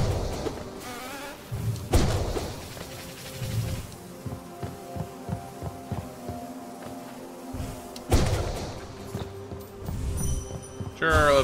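Bloated bugs in Hollow Knight bursting into swarms of bees, with loud pops followed by a busy, buzzing insect drone set against a layered game soundtrack; no talk.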